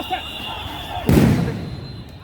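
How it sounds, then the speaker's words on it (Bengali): A sudden loud sound grenade blast erupts during a clash between police and students, a single sharp broadband burst that decays over about a second against steady crowd-street noise. "সাউন্ড গ্রেনেড বিস্ফোরিত হচ্ছে"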